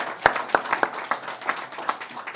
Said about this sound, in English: big round of applause for what you guys have done